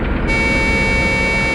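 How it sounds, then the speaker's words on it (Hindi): A horn-like tonal blast sounding as a signal from a truck deep in a forest, starting faintly then swelling into a loud, sustained, steady honk that holds for over a second. "हॉर्न भी बजा रहा है।"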